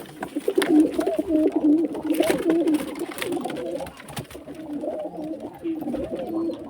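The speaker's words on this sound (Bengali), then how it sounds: "মুখ সাদা পায়রা" Several white-faced Madrasi pigeons coo steadily and close by, overlapping low burbling calls with some faint scuffling behind them and no speech.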